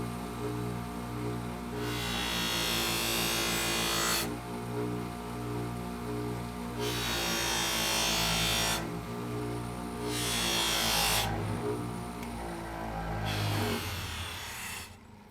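A motor-driven buffing wheel working the burr off a knife blade during sharpening, its steady whine swelling into loud broadband bursts each time the blade is pressed in, roughly four passes alternating with quieter idling hum.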